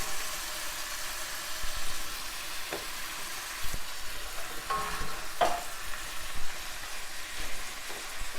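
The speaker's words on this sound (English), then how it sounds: "we'll just stir these around. Let everybody get nice and coated with oil and butter" Asparagus being stirred in a pan of oil and butter, a steady sizzle with soft scraping and a few sharper clanks of the utensil against the pan, continuous and fairly close.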